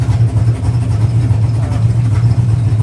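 A Pontiac GTO engine idles after a cold start, a loud, steady, close low rumble holding even throughout with no voices.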